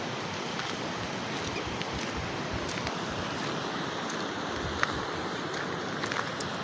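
Surplus water from the full Devi dam pours out through the canal, a broad steady rush of flowing water mixed with wind buffeting the microphone, constant and unbroken with a few faint knocks.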